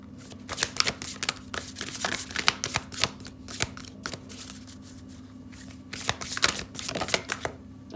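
Tarot cards being shuffled by hand in bursts of quick riffling clicks and slaps, close and fairly quiet, with brief pauses between runs and a low steady hum underneath.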